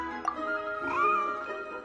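A cat meows in a video game, Genshin Impact, with a drawn-out, rising and falling tonal call over faint background game music; nobody speaks.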